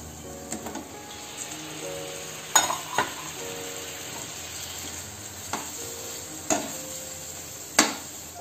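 Chicken pieces sizzle gently in spiced masala oil in a pan. A soft, steady frying hiss runs underneath, broken by several sharp clinks and scrapes of a utensil stirring against the pan, with no talking.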